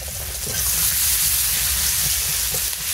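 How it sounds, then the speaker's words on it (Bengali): Chopped onions frying in a pan for a village-style chicken curry, a loud continuous close-up sizzle and hiss with faint stirring scrapes and no talking. "এই পেঁয়াজ কুচিটি আগে আমি ভেজে নেব।"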